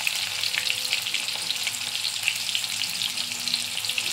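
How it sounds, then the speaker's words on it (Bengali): Tomatoes fry in hot oil in a pan, giving a bright, steady crackling sizzle that stays close and even throughout, with no voices over it. "টমেটোটা দিয়ে একটু ভেজে নিয়ে তারপর আমি বাটা মশলাটা দিয়ে দেবো।"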